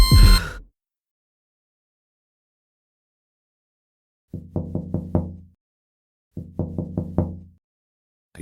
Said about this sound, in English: I groggily opened my eyes to see a policeman outside the car, knocking at my window.